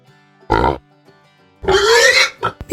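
Pig oinking on a farm: two short grunting oinks, the second longer and louder, close and alone, with a couple of brief snorts at the end.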